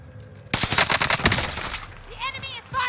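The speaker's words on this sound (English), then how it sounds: "The enemy is firing at me!" Enemy automatic gunfire in a video game breaks out suddenly: a loud, close burst of rapid shots lasting about a second and a half, then tapering off, with voice-like chatter afterward.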